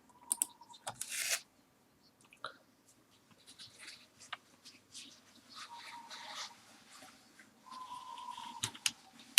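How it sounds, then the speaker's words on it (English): Keys tapped on a computer keyboard while an IP address is entered during router configuration, short bursts of clicks with pauses between, close and fairly quiet, no talking. "So I'm gonna type"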